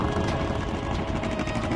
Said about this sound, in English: Oh, those are helicopters.